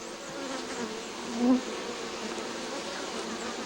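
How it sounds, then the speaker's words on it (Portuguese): Honeybees hum steadily around royal jelly cells on a hive frame lifted out of the nest, a close, continuous buzzing with one brief louder swell as a bee passes near. "E é impressionante a dedicação dessas abelhas."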